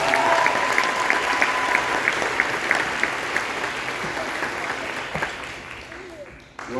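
A high school spring concert audience applauds a student in a dense, sustained wave of clapping that fills the hall, with a brief whistle or cheer near the start, then tapers slightly toward the end.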